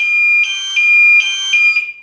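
An alarm set off by an optical sensor test circuit sounds loud and close, a steady electronic tone that pulses in a repeating pattern of short bursts, with no talk.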